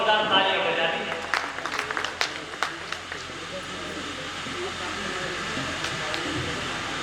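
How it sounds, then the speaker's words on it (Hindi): Applause rises from the crowd at a mushaira poetry gathering in Meerut, with sharp claps over a steady hiss, then it fades into a soft, even wash as the room settles. "जोरदार तालियां बजा दी"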